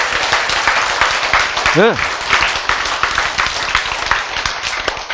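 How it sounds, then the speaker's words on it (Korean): A lecture audience claps hard and fast in a dense, loud burst of applause while a voice briefly speaks over it. "박수를 어떻게 치자?"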